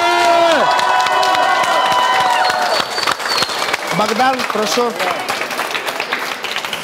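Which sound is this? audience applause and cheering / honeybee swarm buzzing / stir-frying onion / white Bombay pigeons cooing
audience applause and cheering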